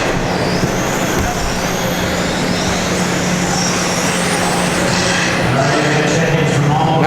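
Tamiya TRF419 electric RC touring car in a 17.5 class race, heard as a steady loud broadband whine and rush of several cars circling the track, with a constant hum and no distinct passes standing out.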